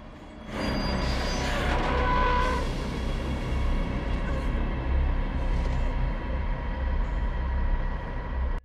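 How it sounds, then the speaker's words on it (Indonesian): A truck rolls past in a film scene, a loud broad rumble that swells in the first few seconds and then holds steady as a continuous drone, with no voices. "Beruntungnya ada truk yang lewat."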